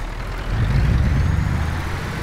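A heavy truck in Euro Truck Simulator 2 idling and being put into gear, a steady deep engine rumble that swells slightly, close and alone.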